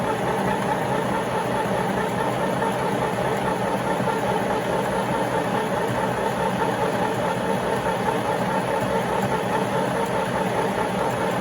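A midi sewing machine stitching a round cushion pad, running as a steady, continuous motor drone with a rapid mechanical patter throughout, close and fairly loud, with no talk.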